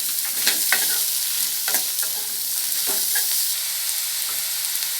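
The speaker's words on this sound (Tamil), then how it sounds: "எண்ணெயிலே இதை அப்படியே வதக்கிக்கலாம்." Ridge gourd sautéing in hot oil in a pan for a chutney, with a steady sizzle and repeated stirring scrapes and clinks of a spoon against the pan, close and continuous with no talking.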